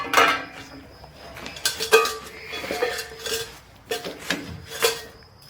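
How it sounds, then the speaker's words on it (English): A small camping pan and a titanium pot handled in a public park, giving a series of irregular metallic clinks and clatters, close and clear with short pauses between them. "Got this little pan thing I'm going to use."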